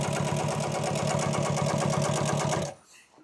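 An industrial sewing machine with a welt foot stitches piping around an old-school boat cushion, a fast, even mechanical chatter running close and loud, then stopping abruptly near the end.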